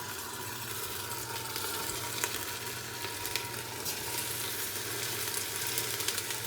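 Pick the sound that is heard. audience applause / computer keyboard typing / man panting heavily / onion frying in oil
onion frying in oil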